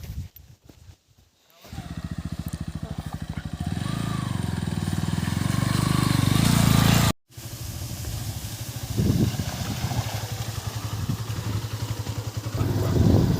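A motorcycle rides off-road on a rough, watery hill track near Guwahati, its engine droning loud and close with a steady rumble, cutting out briefly midway before picking up again.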